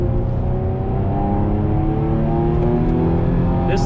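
A car in sport mode pulls hard on a wintry road, the engine note steady, loud and close as it rises smoothly through the revs for a few seconds. No one speaks.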